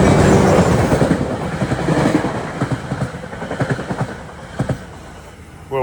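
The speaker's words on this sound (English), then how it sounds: "Coming is train 59 en route from Hoboken to Port Jervis." New Jersey Transit train 59, running from Hoboken to Port Jervis, passes close and loud, with wheels clacking in a rhythmic series over rail joints as the rumble slowly fades.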